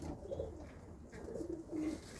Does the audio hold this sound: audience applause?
no